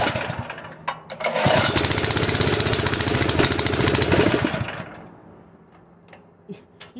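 A portable gasoline air compressor engine converted to run on propane bursts into a loud, rough, rattling run for a few seconds, then drops away to faint ticks and knocks.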